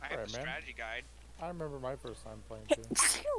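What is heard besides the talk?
sneeze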